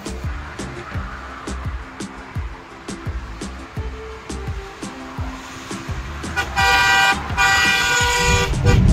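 A car on a fog-shrouded mountain road at Saptashrungi Gad near Nashik, its engine rumbling steadily while short horn toots repeat, ending in a louder, sustained honk.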